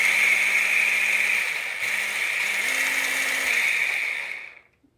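An NXONE 500W immersion hand blender runs on turbo mode with a steady, loud, high-pitched motor whine that holds for about four seconds, then quickly winds down to silence.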